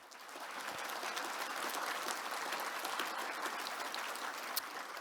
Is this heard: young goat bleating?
no